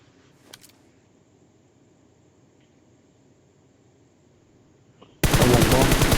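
Sudden loud, sustained burst of rapid gunfire from a shooter video game erupts near the end after mostly quiet background with a faint click.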